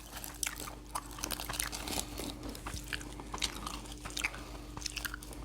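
Someone chews gwamegi, dried herring wrapped in laver seaweed, up close, with steady wet crunchy bites and mouth sounds repeating throughout over a faint low hum.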